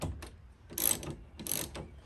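A ratchet loosens the window regulator fasteners inside the rear door of a 2001 Chevrolet Suburban, making two short bursts of quick mechanical clicking, close by, with no talk.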